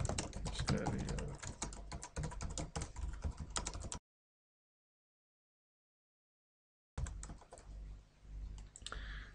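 Rapid keystrokes clatter on a computer keyboard while text is written into WordPress, a dense burst of typing that stops abruptly for a few seconds of silence, then resumes at a similar close, moderate level.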